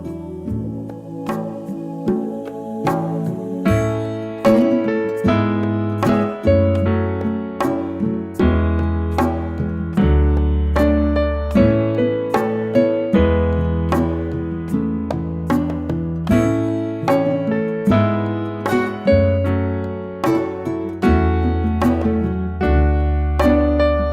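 Solo piano plays a slow, gentle passage, with sustained bass notes and a flowing melody on top, clear and close.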